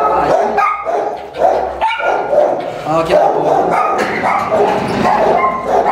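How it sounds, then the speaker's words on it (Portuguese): A dog barks repeatedly and loudly nearby, sharp yips mixed with whines, while a person talks in Portuguese over the barking. "o cachorro tá latindo é porque o outro tá lá"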